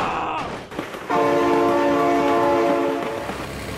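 A loud, sustained train horn blares in the BeamNG Drive driving game, holding a steady chord for a few seconds over rumbling rail noise and a brief shout.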